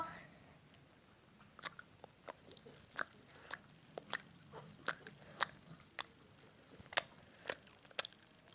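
A person eating dog treats together with grapes, close crisp bites and crunchy chewing in an irregular rhythm, fairly quiet, with no talk.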